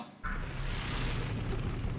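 A sudden deep video game explosion boom erupts and rolls into a sustained, rumbling roar that fills the rest of the moment.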